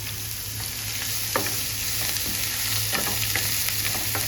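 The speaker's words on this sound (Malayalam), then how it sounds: "ഇനി നമ്മൾ നേരത്തെ അരിഞ്ഞു വെച്ചിട്ടുള്ള ഉള്ളിയും ആ ബാക്കി പച്ചമുളകും കറിവേപ്പിലയും കൂടെ ഇതിലേക്ക് തട്ടിയിട്ടിട്ട് നന്നായിട്ട് ഒന്ന് വഴറ്റിയെടുക്കാം" Chopped onions, green chilies and curry leaves sauté in a hot pan, a steady, loud sizzle and frying hiss running throughout, with light stirring scrapes and clicks on top.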